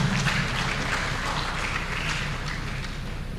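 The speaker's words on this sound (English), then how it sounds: "Give him a big applause." A crowd at a formal gathering applauds an honored guest with continuous, moderately loud clapping, mixed with a low background hum that fades slightly toward the end.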